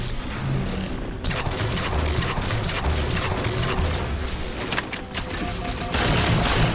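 Rapid bursts of gunfire from the video game Halo 4 crackle through dense, loud action sounds, with clustered shots and impacts running continuously across the scene.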